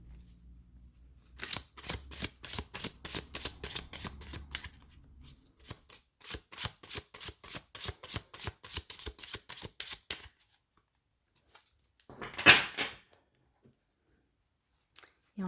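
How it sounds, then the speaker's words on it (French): A deck of tarot cards is shuffled in quick, even riffling flicks that come in two long runs, followed by a brief soft rustle and then quiet. "on va la remettre dans le paquet et puis mélanger."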